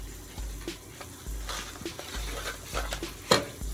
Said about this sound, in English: So I grab my spaghetti and put it in the pot.